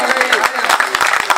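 Audience applause at a Layyah poetry mushaira welcomes poet Khalid Nadeem Shani: sharp bursts of clapping from a crowd, loud and close, while someone speaks over the claps throughout.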